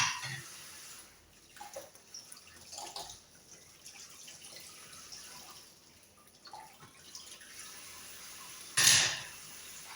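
Dishes being washed in a kitchen sink, with faint running water and soft intermittent clinks of plates and cutlery, followed near the end by a brief louder splash or clatter.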